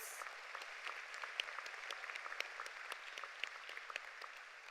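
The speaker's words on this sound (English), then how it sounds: "Please give them a round of applause." Graduation audience at a community high school ceremony applauds in a large hall, a steady wash of many hands clapping at moderate distance, fairly faint and even throughout with no voices over it.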